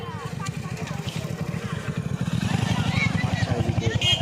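Motorbikes putter past on a road through an open field during a festival outing, with a rhythmic engine thrum that grows louder toward the end while voices talk nearby.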